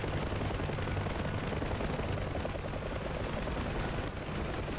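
Helicopter door guns firing in the DCS Huey UH-1 combat game: dense, continuous rapid gunfire blended with rotor and engine roar, loud and unbroken throughout with no talking.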